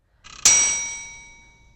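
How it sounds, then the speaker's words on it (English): A single oven ding signals that it has preheated: a soft rattle, then one bright metallic chime that rings out and fades slowly over about a second, clear and alone. "Sounds like my oven has finally heated to the proper temperature."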